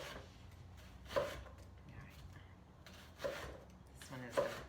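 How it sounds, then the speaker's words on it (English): A few crisp knife chops strike a cutting board, slicing an onion into thin slices, spaced irregularly, against a faint quiet background. "I'm chopping up the onion. I'm going to do half an onion into thin slices."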